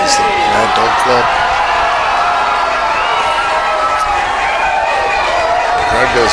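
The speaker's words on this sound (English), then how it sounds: "The crowd goes wild." A wrestling crowd in the packed Bowman Hall roars and cheers continuously at an AWF event, a dense loud wall of shouting and whooping with no pauses throughout.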